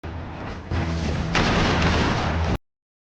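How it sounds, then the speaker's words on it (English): Revolver gunfire in a western shootout, a loud continuous barrage of booming shots and rumble sustained for over two seconds before cutting off abruptly into silence. "Breacher burst into the open, his revolver spitting lead."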